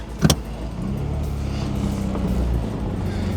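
A Ford car, a Puma or Fiesta, pulls away down a driveway, its engine giving a steady low rumble after a brief louder thump at the start, continuous and fairly close.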